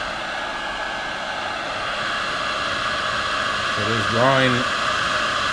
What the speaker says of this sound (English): There's a heat gun.